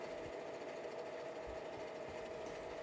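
A sewing machine with a free-motion embroidery foot stitching a repeating seed-stitch pattern of small circles in free-motion quilting, a faint, steady mechanical hum and whir running continuously without any voices.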